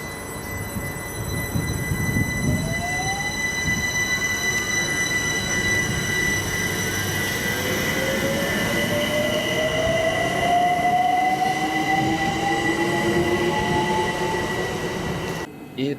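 A UK electric train, 2009 stock or Electrostar type, accelerates with its traction inverter pattern pulsing: rising whining tones climb steadily over continuous rail rumble and wheel noise, loud and close, with no talk.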